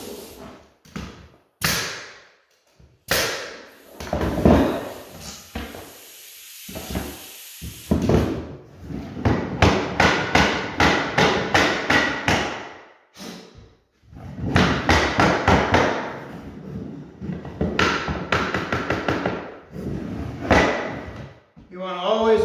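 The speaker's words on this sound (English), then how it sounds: "tap it down." Blue pine floorboards are tapped down into place with many sharp wooden knocks, some in quick rapid bursts and others spaced apart, loud and close with short pauses between runs.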